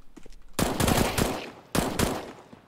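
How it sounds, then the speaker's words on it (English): Automatic gunfire in Counter-Strike: Global Offensive, two loud sustained bursts of rapid shots, the first about a second long and the second shorter after a brief pause. "aim first and then shoot"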